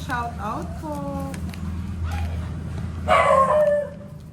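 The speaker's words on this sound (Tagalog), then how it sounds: "Yan, mga aso ni Kiray." Several dogs bark and yip nearby in short, scattered bursts, with a whimpering howl toward the end, heard under people talking over an outdoor hum.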